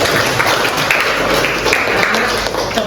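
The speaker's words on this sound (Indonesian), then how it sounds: "Sekali lagi tepuk tangan" A crowd applauds at the close of a presentation session in an Indonesian university teacher-training program at UIN Syahada Padangsidimpuan: loud, dense, steady clapping that carries on without a break and with no talk over it.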